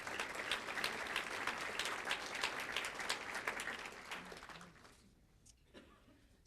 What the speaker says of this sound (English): So could you give them a round of applause?